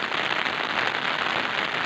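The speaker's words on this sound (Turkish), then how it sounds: "Köyümüzde şu an çok güzel yağmur yağıyor." Steady rain falls in a village in Diyarbakır, Turkey, a dense, even patter of drops spread across the whole scene, unbroken and fairly loud.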